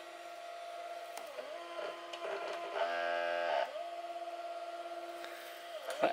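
A TopDirect 3000mW mini laser engraver homes its axes with a faint, steady motor whine. The pitch dips and steps as the carriage moves, and a brief stepped buzz sounds midway, with no talking.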